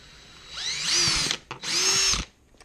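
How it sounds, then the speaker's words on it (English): A power drill whines up in two short bursts while drilling into cardboard, rising in pitch then stopping, with a brief pause between them; close and fairly loud. "you can drill it in the cardboard"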